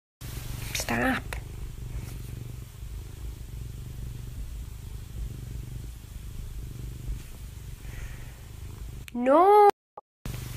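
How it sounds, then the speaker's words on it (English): An aggressive house cat purring, a low steady rumbling purr close by throughout, with a brief cry near the start and a sharp rising squeal toward the end. "This person owns an overly aggressive, romantic cat."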